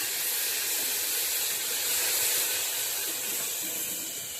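Ginger-garlic paste frying in oil for mutton curry, a steady close hiss and sizzle that holds evenly throughout with no talk.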